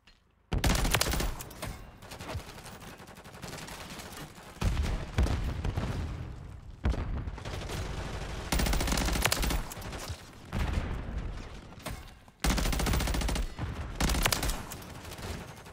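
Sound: gunfire from the BP50 rifle in Modern Warfare 3 (video game)

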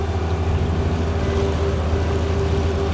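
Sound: boat motor running on a river

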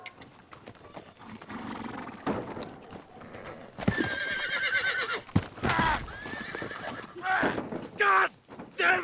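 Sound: horses neighing

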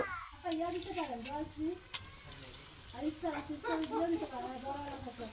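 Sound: spice masala frying in oil

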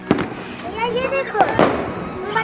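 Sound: firecrackers exploding

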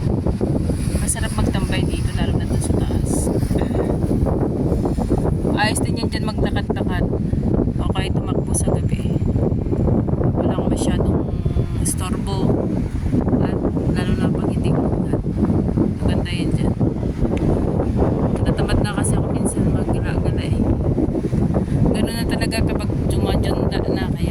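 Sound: wind

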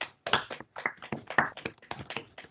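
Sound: round of applause

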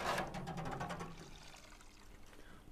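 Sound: rinsing parts with water after ultrasonic cleaning

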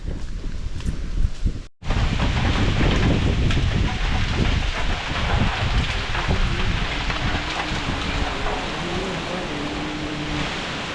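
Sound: heavy monsoon rain

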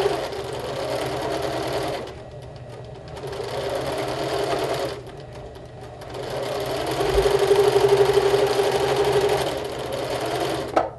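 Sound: sewing machine stitching a quarter-inch seam

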